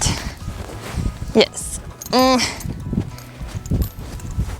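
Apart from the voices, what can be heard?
horse hooves walking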